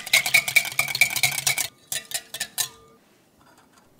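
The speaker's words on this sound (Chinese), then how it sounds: "蛋黄里加入植物油搅拌，将蛋黄完全乳化。再加五十克牛奶拌匀" A whisk or spoon clinks rapidly against a bowl while stirring egg yolk, vegetable oil and milk into a batter, a quick run of bright taps, then a few slower strokes before falling quiet.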